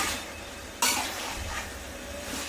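Black cumin seeds stirred in oil for a homemade herbal hair oil, a soft steady sizzle with a sharp scrape of a spoon against the pan near the start, continuing as a low hiss.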